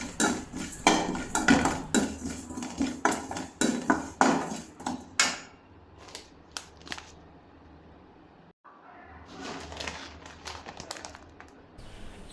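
Ajwain seeds are lightly dry-roasted and stirred in a pan, making rapid dry rattling and scraping that is busy at first, then pauses and returns more faintly.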